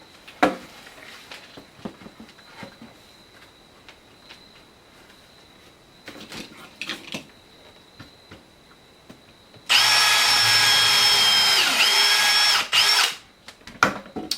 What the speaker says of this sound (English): Then we'll run 2 screws through the bottom of the I-joist.